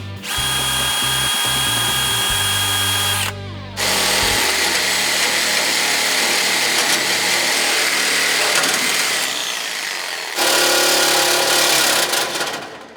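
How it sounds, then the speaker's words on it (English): A power drill whines loudly and steadily in long runs, pilot drilling holes through a template into a 1970 Chevrolet C20 truck frame, the motor pitch shifting as it bites in, with brief pauses between bursts. "I'm gonna go ahead and pilot drill the holes in the template."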